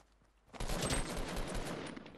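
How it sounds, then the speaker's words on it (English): Sustained rapid automatic gunfire in Fortnite Battle Royale squads match, a dense crackling volley that bursts in after a quiet moment and keeps rattling loudly and close. "You're shooting at me."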